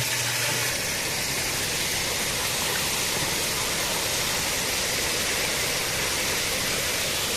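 Cold water pours steadily over drained, boiled quail eggs, a loud continuous rushing splash filling the whole stretch without pause or talk.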